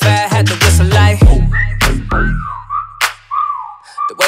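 A bright, sliding whistled melody rises and falls in a hip-hop song, following punchy beat hits with deep bass.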